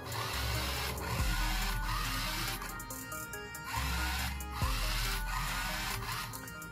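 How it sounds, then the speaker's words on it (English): A DC motor driven by an L298N motor driver runs with a continuous buzzing, whirring hum that wavers and restarts a few times, fairly loud against a noisy background. "Now you can see motor B start rotating."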